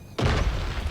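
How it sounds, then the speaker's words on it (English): A mech's shoulder cannon fires in the building game Trailmakers, producing a single deep, loud boom that hits suddenly and rumbles on briefly. "The shoulder cannon."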